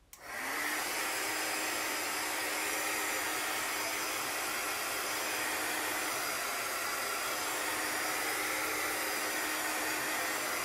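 Hair dryer drying chalk-paste craft work, switched on at the start and then blowing with a loud, steady close-up whoosh and hum for the rest of the stretch.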